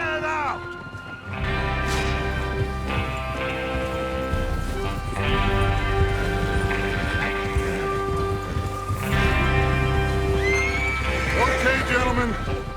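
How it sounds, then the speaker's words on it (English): Horses in Red Dead Redemption 2 neigh and whinny loudly over hoof clip-clop, with rain falling and a musical score underneath, several whinnies spread across the scene. "Get your horses ready."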